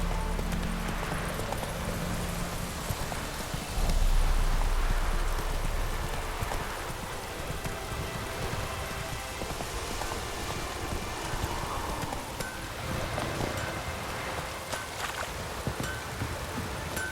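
Hooves of Roach, a horse in the video game The Witcher 3, clip-clopping steadily over ground with rustling ambience, the gait easing and slowing down over time.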